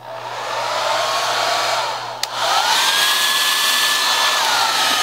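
A hair dryer blows hot air over a Jamberry nail wrap, a loud steady whoosh with a brief click and dip midway before the airflow resumes, close and alone.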